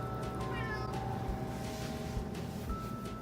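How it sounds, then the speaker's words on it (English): A cat meows a few times in a home kitchen while cheese crisps are being made, the short rising calls standing out close by against a steady background hum. "Oh, hello, Kitty. Hi. Kitty wants crisps too."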